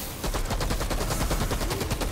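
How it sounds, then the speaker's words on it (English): Rapid automatic fire from an auto rifle in the Outriders video game, a dense unbroken stream of loud, close shots running the whole time with no talk over it. "This auto rifle is awesome"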